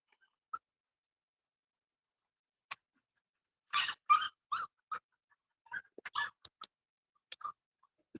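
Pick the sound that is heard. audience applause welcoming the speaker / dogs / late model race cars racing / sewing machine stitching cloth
dogs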